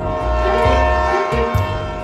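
A railroad train rolls past with a loud, steady rumble while its horn blares continuously throughout, holding close and strong with no pauses.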